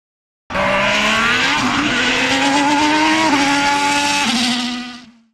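A Ferrari Formula 1 car screams past at high revs during a test, its engine note stepping down through several quick downshifts before fading away.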